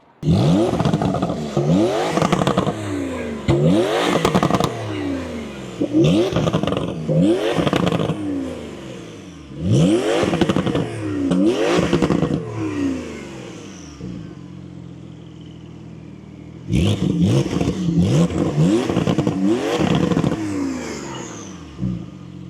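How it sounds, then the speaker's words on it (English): A Porsche 911 Carrera with a Stage 2 tune and IPE Valvetronic muffler revs repeatedly in neutral, each loud, close blip rising then falling with pops and burbles, with a pause before the revs resume. "let me rev it up so that you guys can hear the extra pops and burbles that came with the tune, and also the IP Valvetronic muffler"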